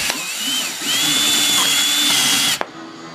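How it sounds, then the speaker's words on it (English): A power drill with a 1-inch spade bit bores a hole for a tub spout, loud and close with a steady high whine, then stops abruptly with a click. "Transferred my marks with a 1-inch spade bit. I'm gonna send it, this is for the tub spout."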